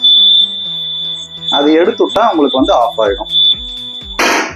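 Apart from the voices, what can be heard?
TVS Jupiter 125 scooter side stand warning beep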